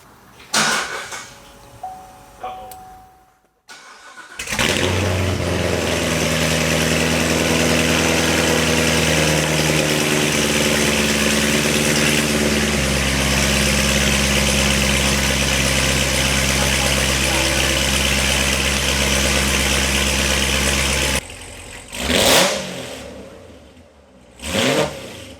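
A C7 Corvette Z06 with long tube headers cranks and fires up, revving briefly before settling into a loud, steady idle with a raspy tone, then cuts off. A few brief noises come before and after.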